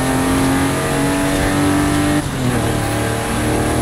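A 1953 Corvette engine in the racing video game Forza Horizon 5 drones steadily at a loud, constant pitch, then shifts tone partway through as it changes gear.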